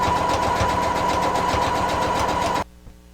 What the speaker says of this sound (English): I'm going to hop on over to my sewing machine, and I am going to sew the length of this entire row